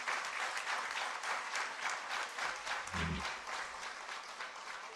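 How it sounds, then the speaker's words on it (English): A school senior annual day audience applauds award-winning students, steady dense clapping from a large crowd held at an even level, with a brief low thump partway through. "A big round of applause to them, come on"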